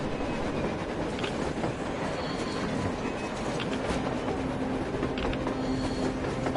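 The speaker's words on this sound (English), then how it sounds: "A train! A damn train on the surface!" A train rolls past on the surface in the 2019 video game Metro Exodus, a steady, loud rumble with clattering wheels that holds unbroken from start to finish, with no talking.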